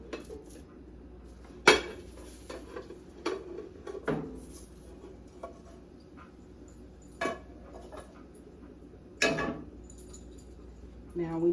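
Hot water cornbread flipped in a pan on a switched-off stove, with several sharp metallic clanks and scrapes of utensil against pan spaced through a quiet kitchen, no talking.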